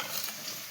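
Tempering spices fry in hot oil, giving a steady, close, broadband sizzle with no voices.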